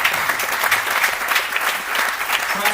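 Audience applause at a leadership awards celebration, a sustained roomful of steady clapping, loud and even from start to finish.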